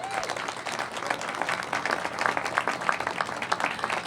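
A crowd claps at a ribbon cutting for Fire and Emergency Management Services Engine Company 13, a dense, steady burst of applause lasting a few seconds without speech over it.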